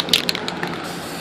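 An aerosol can sprays a thick coat of lacquer onto an ASW-28 RC glider model, heard up close as a short hissing burst with a few faint clicks, then a fading hiss.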